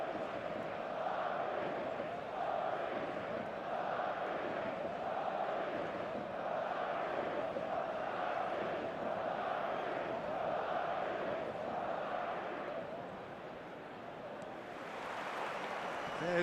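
A virtual stadium crowd in the eFootball video game roars as a dense, continuous wash of cheering and chanting, steady and distant-sounding throughout, swelling slightly near the end.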